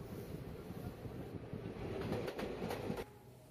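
A passenger train running on rails between Tenali Junction and Vijayawada, a steady broadband rumble and rattle of the coaches with wind noise that fades after about three seconds.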